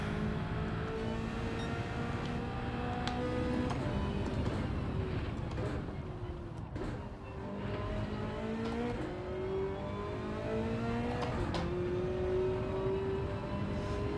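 Race car engine in Gran Turismo 7 revs up and down continuously through gear changes, moderately loud and steady with tyre noise, no talking.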